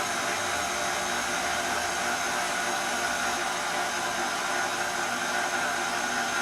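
A KitchenAid stand mixer drives a pasta roller attachment feeding dough through, giving a steady, loud motor whir and broadband hum that holds unchanged from start to finish.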